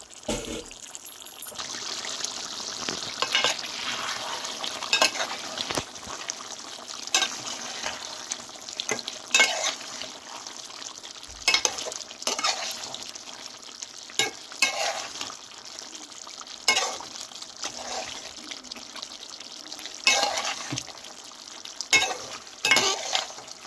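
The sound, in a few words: sautéing mutton with curry leaves, bay leaves and spices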